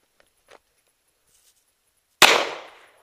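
A single sharp pistol shot during a shooting drill, loud and close with a short decaying tail, preceded by a couple of faint clicks and otherwise quiet.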